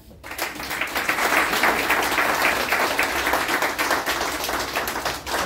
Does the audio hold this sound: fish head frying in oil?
no